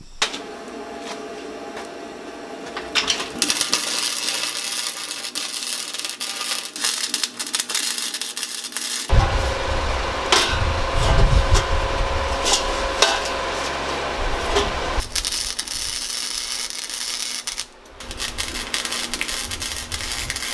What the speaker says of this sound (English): Now I'm going to take 2 bars on the inside, and that V is just going to sit right down on the bars, weld them up.